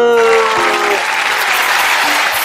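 Children's audience clapping after a puppet show at a daycare, a short burst of applause heard close alongside a lingering voice and a few scattered individual claps.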